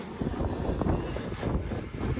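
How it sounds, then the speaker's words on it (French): Wind buffets the outdoors microphone in steady, rough gusts while a drone hovers in the breeze along the Nova Scotia coast, a continuous low rumble filling the whole stretch with no voices. "il vente"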